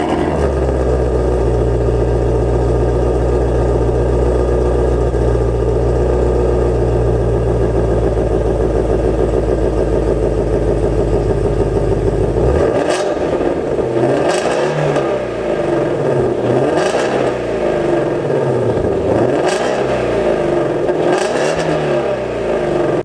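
A track-focused sports car engine idles steadily, then breaks into a series of loud, sharp revs that rise and fall repeatedly, close by and with no talking.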